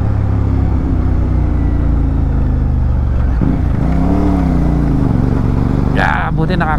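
A motorcycle rides a potholed, broken road toward South Luzon, its steady mid-pitched engine drone continuing throughout with rough, uneven variations, while a rider talks over it.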